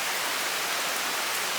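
Rain in the Jamaican countryside of Portland, a dense, even hiss of downpour filling the space, close and steady throughout with no voices.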